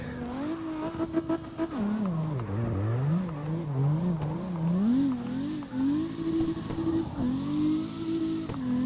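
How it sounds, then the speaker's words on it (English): Drift car engine on a mountain road rises and falls in quick swoops, RPMs fluctuating steadily up and down through a technical section, loud and close from inside the car. "so I keep it very, very fluctuating RPMs through here"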